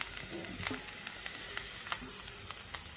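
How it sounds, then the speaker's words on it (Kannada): Sliced mushrooms frying in oil with ginger-garlic paste in a pan, a steady bright sizzle with small crackles and pops, close and continuous. "ಈಗ ನಾವು ಮಶ್ರೂಮ್ನ ತೊಳೆದು ಕಟ್ ಮಾಡಿ ಇಟ್ಕೊಂಡಿದ್ವಲ್ಲ ಅದನ್ನೆಲ್ಲನೂ ಹಾಕ್ಕೊಂಬಿಡೋಣ"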